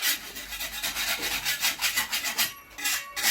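A putty knife scrapes paint off a ceiling after the ceiling panels were removed, giving a fast, rhythmic rasping. The scraping is close and moderately quiet, continuing for a few seconds.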